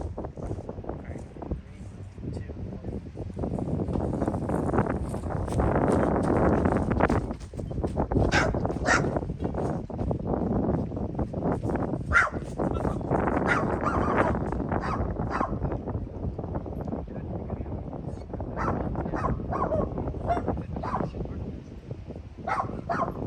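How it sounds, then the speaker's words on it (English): Guard dogs bark in a noisy, dense stretch, repeated sharp barks over constant loud background rumble and voices, with busy highway traffic around. "Scary guard dogs."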